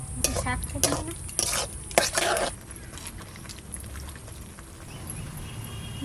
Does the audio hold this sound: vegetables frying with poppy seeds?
yes